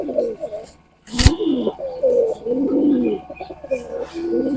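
Red Sirazi fancy pigeons coo in soft, rounded, repeated calls close by, broken by one sharp click, with a brief quiet gap early on.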